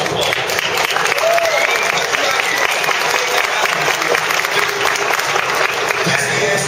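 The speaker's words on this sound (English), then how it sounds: "So give yourselves a round of applause." Loud, sustained applause from a large fan convention audience at an Arrow panel, dense clapping filling the whole stretch with crowd noise mixed in.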